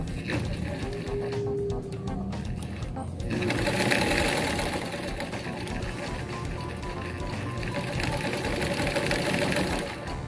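A sewing machine runs steadily, stitching bias binding onto fabric, its motor whirring loud and continuous close by for the whole stretch with a brief surge in the middle.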